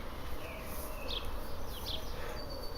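Birds sing in a garden in the early morning, including pigeons, with several distinct high chirps and whistled calls over a constant low ambient rumble and hum, and no one talking.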